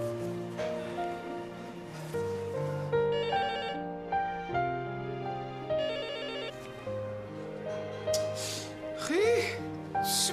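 A telephone rings on an outgoing call as a continuous melodic ringtone, a tuneful sequence of sustained tones repeating steadily and fairly clearly throughout.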